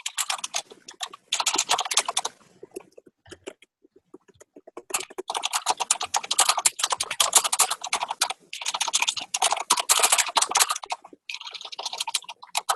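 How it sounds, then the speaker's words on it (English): A loud computer keyboard clatters with fast, dense runs of keystrokes, close and prominent, broken by brief pauses between bursts. "Sorry, my keyboard's it's loud."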